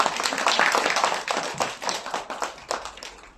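Audience clapping at a children's graduation ceremony, a dense close patter of hands that thins into scattered individual claps toward the end.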